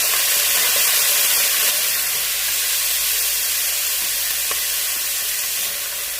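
Boneless chicken with garlic sizzles loudly in a hot pan, a dense, steady frying hiss with a few soft crackles, heard up close and without talk.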